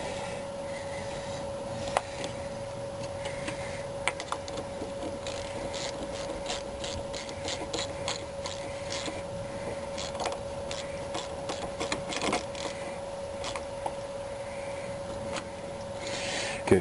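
Ratchet tightening a car battery terminal clamp, close, repeated clicking of the pawl over a constant faint hum, with a few sharper metallic ticks spaced through the stretch.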